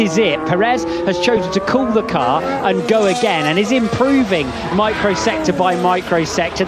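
A Red Bull Formula 1 car arcs through the mid-corner turns of the Qatar Grand Prix circuit during 2023 sprint qualifying. Its engine note rises and falls continuously beneath loud, steady commentary.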